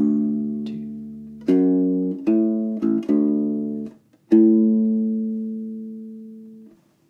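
U-Bass plays a song's bass line slowly, a handful of deep, round plucked notes with sustained tones and short gaps between them, close and clear with no talking.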